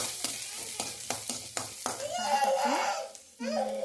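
A spoon scrapes and stirs through onion and garlic sautéing in a pan for vegetable soup, with rhythmic strokes giving way to a soft sizzle. Children's voices chatter nearby.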